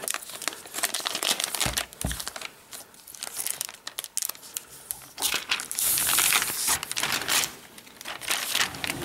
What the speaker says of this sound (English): let's go ahead and remove this envelope. So we have a little tab here. It should slide right out.